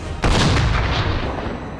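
A single heavy cannon blast from Napoleonic-era artillery in the strategy game Total War: Napoleon, a sudden close boom followed by a rolling rumble that fades over about two seconds.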